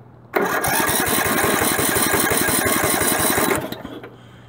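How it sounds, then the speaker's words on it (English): Starter on a Craftsman lawn tractor with a suspected sticky ignition switch cranks the small engine in a fast, steady chugging rhythm for about three seconds, loud and close, then stops abruptly. "It shouldn't start, but it should crank, as long as the starter's okay."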